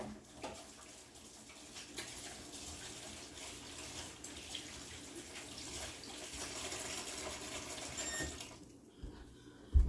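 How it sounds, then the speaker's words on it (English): Tap water runs steadily into a kitchen sink as hands are washed, a soft continuous splashing rush at moderate volume with faint handling sounds. "Wash my hands up."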